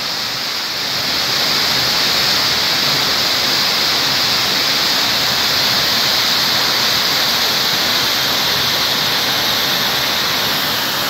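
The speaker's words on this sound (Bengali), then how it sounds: "দেখুন পাহাড়ের ওপর থেকে কীভাবে জলের ধারা নেমে আসছে।" Changey Falls in North Bengal pours down from the hillside, a loud, steady, broadband roar of cascading water that fills the whole scene without a break.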